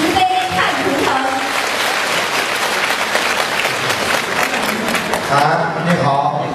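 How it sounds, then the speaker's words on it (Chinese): An audience at a Buddhist gathering in Penang, Malaysia breaks into sustained, dense applause, with a voice speaking over the start and again near the end. "让我们再次用热烈的掌声"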